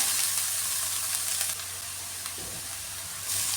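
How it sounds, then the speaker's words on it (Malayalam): Carrots sauté over a medium flame in a pan for carrot halwa, giving a soft, continuous sizzle with occasional light stirring, heard alone. "ക്യാരറ്റ് ഇതിലിട്ട് വഴറ്റിയെടുക്കാമേ"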